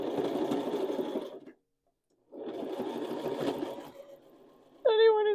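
A sewing machine stitches a patch onto a pair of pants in a crisscross mend, running in two steady bursts split by a short pause, followed by a brief high tonal sound at the end.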